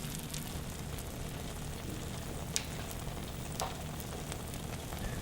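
A country-style omelet with feta frying in a pan, a soft continuous sizzle with occasional small pops and crackles, quiet and steady with no talking.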